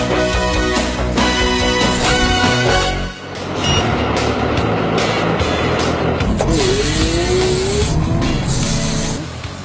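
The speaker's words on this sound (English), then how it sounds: "What's that wheel loader that's struggling over there?" A Case wheel loader struggles and slides during a wheel loader competition, its engine loud and steady under heavy load throughout, with a brief dip near the start, sharp clanks, and a rising whine midway.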